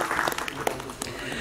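Brief burst of applause from an audience saluting the film team at a release program for a song from the movie Sarauto, a dense scatter of claps across a noisy hall with a voice mixed in.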